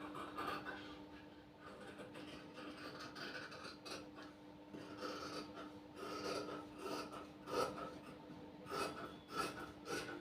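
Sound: scissors cutting blouse fabric

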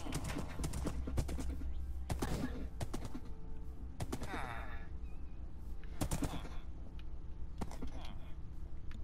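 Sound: horse hooves clip-clopping in a video game

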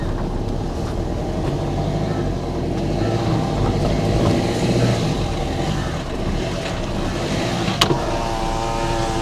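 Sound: car being driven into the house

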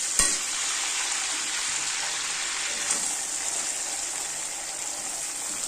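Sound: chopped onions frying in oil

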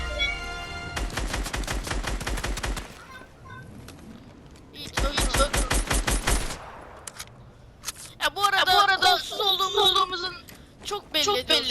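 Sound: gunfire in the video game Fortnite

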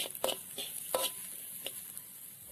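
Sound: spice paste being stir-fried for eggplant stew

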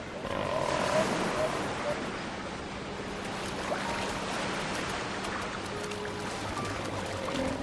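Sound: fur seals calling in a rocky bay on the Falkland Islands

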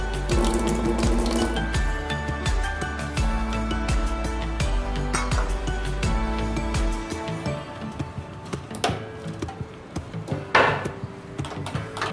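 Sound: pouring water over sugar for fennel syrup

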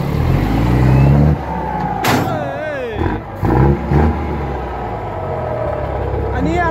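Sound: Daihatsu Rocky truck engine revving

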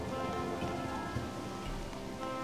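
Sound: rain falling in the video game Harvest Moon: Animal Parade

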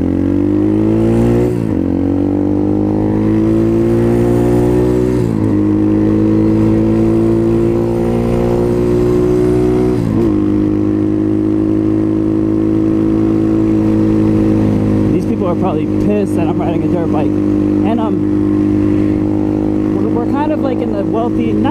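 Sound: 2019 Apollo 250cc Chinese dirt bike riding at top speed

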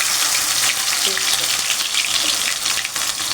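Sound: frying onion and tomato with vegetables in oil

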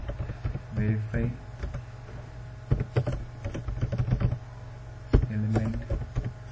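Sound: typing on a computer keyboard

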